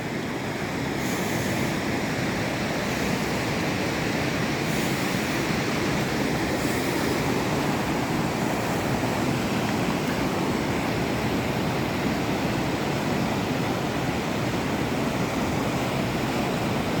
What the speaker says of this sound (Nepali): यो तामाकसी खोला हो।